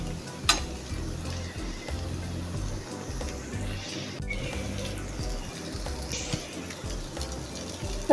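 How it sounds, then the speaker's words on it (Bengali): Bitter gourd and boiled potatoes frying in oil in a pan give a steady, close, dense sizzle with small crackles and stirring scrapes, continuing throughout with no talking. "এখন শুধু ভাজা ভাজা হওয়ার পালা"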